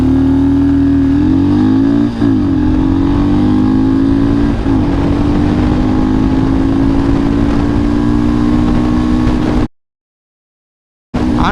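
A 400cc cruiser motorcycle accelerating hard from a standstill toward 100, a loud close engine rising steadily in pitch through gear changes, then cutting off abruptly.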